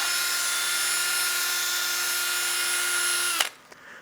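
A drill driving a fine 600-grit sanding disc over a wooden bowl, a steady, close, high motor whine that stops abruptly near the end, leaving a brief rattle.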